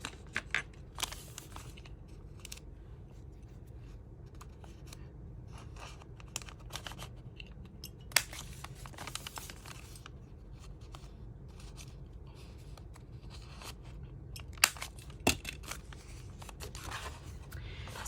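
Paper journal pages being trimmed and corner-rounded with a cutting tool, heard as a string of close, crisp snips and clicks with soft paper rustling between them against a quiet background.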